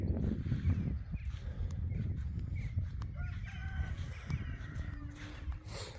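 Chickens at a village coop: a rooster crows through the middle while hens cluck softly nearby over a low steady background rumble, fairly faint overall.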